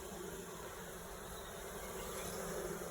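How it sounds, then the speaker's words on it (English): Dense buzzing of honeybees fills the air, a steady close hum with no pauses and no voices. "They're clever, the little bees are, aren't they?"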